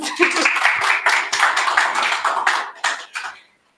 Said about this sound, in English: Okay, a round of applause, guys